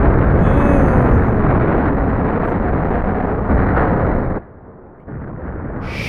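A car slams head-on into a truck in the BeamNG.Drive game, a loud, dense crashing roar of crunching impact noise that sustains for several seconds, briefly drops away, then returns more quietly.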